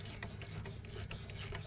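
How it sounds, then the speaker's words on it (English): A 14 mm wrench or socket ratchets steadily while removing a bracket on a Toyota RAV4, producing close, continuous clicking and grinding mechanical sounds. "grab a 14mm wrench or socket. We're going to pop this bracket off."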